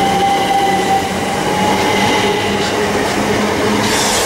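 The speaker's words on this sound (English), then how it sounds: "And 375627 departing Minster Station." A Southeastern Class 375 Electrostar electric train pulls out of Minster railway station, a loud steady rumble with a motor whine and rail noise that holds for the whole stretch, with no talking.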